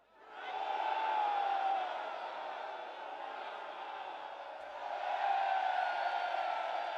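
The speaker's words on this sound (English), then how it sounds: "Cheering Trump." A large outdoor crowd at a political rally cheers and shouts in a sustained roar that dips slightly in the middle and then swells again, with no clear single voice standing out.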